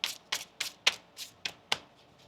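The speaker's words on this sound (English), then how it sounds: "One more shuffle now." Tarot cards are shuffled by hand in seven quick riffling bursts, close and crisp, each a short papery flutter with brief pauses between.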